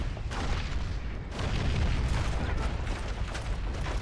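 A grenade goes off in Call of Duty 2 during a World War II battle, a deep booming blast that rolls into sustained low rumble and battlefield noise lasting several seconds.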